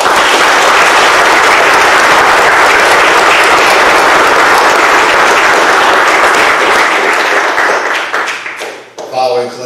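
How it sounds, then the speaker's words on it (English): Sustained, dense applause from an audience at an Eagle Scout ceremony, loud and steady for most of the stretch before thinning out near the end, with a voice briefly emerging. "Let's give our new Eagle Scout one more round of applause."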